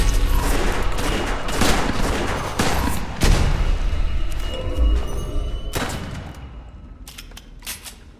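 Rapid automatic gunfire from auto-gun hazards in the video game West of Dead, a dense loud fusillade of overlapping shots and thuds that thins out toward the end into a few scattered bursts.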